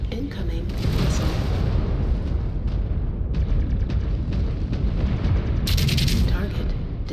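Missile explosions and weapon fire in the MechWarrior 5 video game, a dense, loud, continuous roar of booms and blasts layered over an electronic voice announcing targets.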